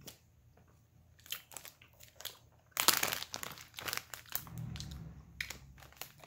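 Thin plastic wrapping from a packet of Kasugai fruit gummy candy crinkles and crackles close by, with scattered bursts of crumpling that swell into a dense rustle midway and then settle into softer handling.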